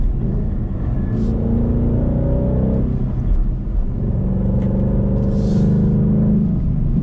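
A manual Roush Ford Mustang engine hums steadily from inside the cabin, its low exhaust note shifting in tone partway through as the drive mode switches to track mode.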